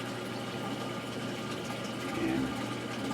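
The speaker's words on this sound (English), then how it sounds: "if you believe I hear the pump running" Small auto top-off pump for an aquarium, switched on through a Neptune Systems APEX controller, running with a steady low watery hum and faint bubbling throughout, fairly quiet and with no voices.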